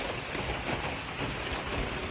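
Steady rain falling while sheltering under a small shop awning, a dense continuous patter on surfaces that stays even throughout.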